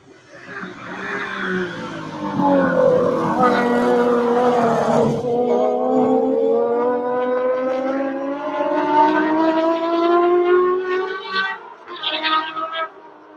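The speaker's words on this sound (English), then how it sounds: "Super high revving, naturally aspirated, inline six." A high-revving, naturally aspirated inline-six car engine climbs steadily in pitch for several seconds, loud and close, with a sharper burst near the end.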